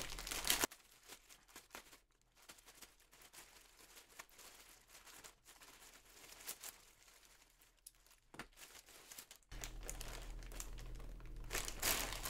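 Plastic bags crinkle and rustle continuously while a cheap overdrive pedal is unboxed, close and fairly quiet, with irregular bursts of crumpling and brief pauses.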